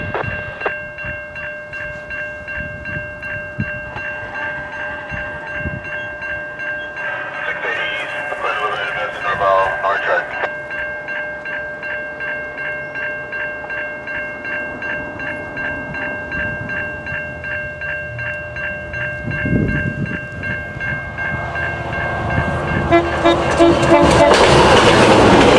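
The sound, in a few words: Kitchener Line GO train passing near Brampton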